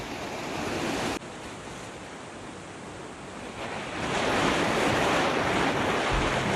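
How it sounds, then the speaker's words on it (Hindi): The Yamuna river rushes below mountains on the trail to Yamunotri while a cold wind blows, making a continuous broad roar that cuts briefly and then swells louder, with wind buffeting the microphone. "चारों तरफ माउंटेन्स, ठंडी हवा और पूरे रास्ते में आपका साथ देती हुई यमुना नदी"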